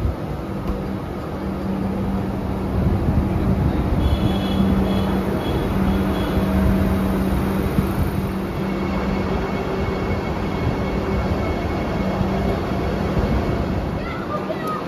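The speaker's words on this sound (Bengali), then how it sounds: "এই যে বন্দে ভারতটা এলো, এর নাম্বার হচ্ছে 22895।" A Vande Bharat Express, train number 22895 on the Puri–Howrah route, rolls steadily into a station with a continuous heavy rumble of rail noise, joined by a brief high whine and faint voices in the background.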